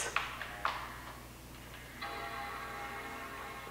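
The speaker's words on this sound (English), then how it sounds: "Heard the chime, that's good." An Apple iBook clamshell laptop booting Mac OS 9.2.1 from disk, with a few soft clicks followed by a sustained tonal startup chime that rings on to the end, fairly quiet.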